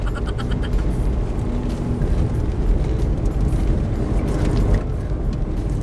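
A 2023 Suzuki S-Presso Special Edition with a small 1-liter gasoline engine labors uphill, giving a steady, loud low drone of engine and road rumble throughout, with no talk.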